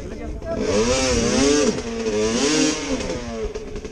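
A motorcycle engine revs up and down in rising and falling sweeps, loud and close, with a brief drop in the middle.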